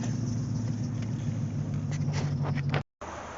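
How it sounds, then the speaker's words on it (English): A 1984 Chevrolet Corvette C4 on a test drive after a brake booster repair gives a steady, loud interior engine and road drone with a low rumble, briefly cutting out near the end before resuming. "some people like to hear that car go for that first ride, you know, after you fix something"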